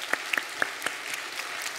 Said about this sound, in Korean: 바로 박수하겠습니다